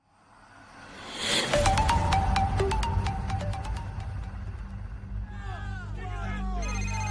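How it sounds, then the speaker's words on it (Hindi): A telephone rings repeatedly in a steady pulsing pattern while a dense murmur of a media crowd gathered outside a house fills the background, with car and street noise mixed in throughout. "बजते हुए फोन और अपने घर के बाहर खड़ी मीडिया के शोर से परेशान होकर"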